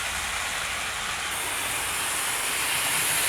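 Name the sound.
model train with streamlined locomotives running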